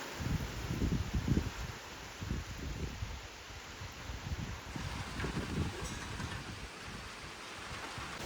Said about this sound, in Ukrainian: Вже машину Діма на подвір'я загнав, бо таке вітрисько.